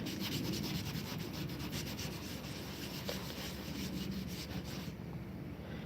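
Old t-shirt rag soaked in vinegar rubbed over minor surface rust, a continuous scratchy scrubbing sound with steady back-and-forth friction, close and quiet, no talk.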